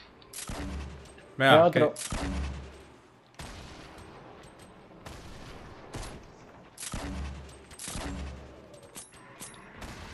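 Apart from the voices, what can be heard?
gunfire from the video game Fortnite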